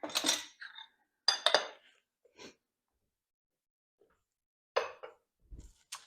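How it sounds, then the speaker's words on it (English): Magnetic measuring spoons clink together in a few short, bright metallic bursts with quiet gaps between them, close and fairly soft in a home kitchen. "these are my magnetic measuring spoons"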